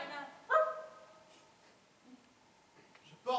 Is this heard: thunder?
no